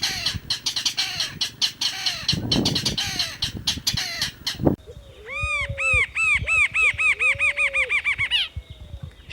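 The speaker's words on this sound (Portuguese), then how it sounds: "Quem parece que está debochando de alguém é a saracura matraca, uma espécie exclusiva dos manguezais do litoral." Saracura matraca, a mangrove rail from coastal mangroves, gives loud, rapid, cackling calls like mocking laughter, with several birds joining in a chattering chorus that ends in a long run of repeated rising notes.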